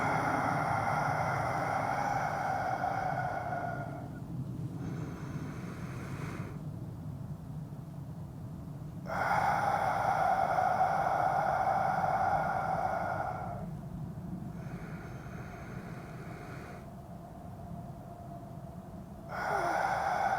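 Slow 4-7-8 breathing exercise, with long audible inhales and exhales that alternate with quiet held pauses, close and steady, with no talking.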